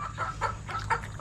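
A chicken clucks several times in quick succession, close by and moderately loud, with no one talking.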